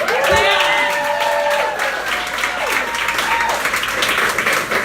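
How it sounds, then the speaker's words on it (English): Applause at a Republican voter registration drive, loud continuous clapping from a gathered crowd with a few cheers and voices rising over it at the start, holding steady to the end. "Can I get a round of applause for Brandon?"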